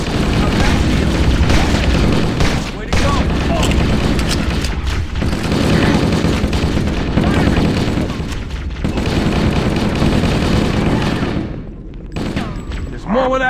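Dense, continuous gunfire and heavy booms from the Halo: Combat Evolved campaign (modded MCC, Operation Rubecca Reloaded) pound loudly throughout, with game character voices mixed in before the firing thins out near the end.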